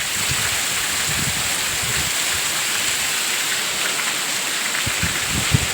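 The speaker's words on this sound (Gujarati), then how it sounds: "કન્ટિન્યુ ચાલુ જ છે વરસાદ" Steady heavy rain hammers down in a Gujarati village, a loud unbroken hiss of water on surfaces with faint low thumps of drops and splashes underneath.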